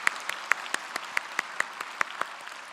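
At a church service for the congregation's 125th anniversary, a small, sparse scattering of individual hand claps sounds in a loose, quick rhythm, each crisp and distinct, moderately quiet in a reverberant room.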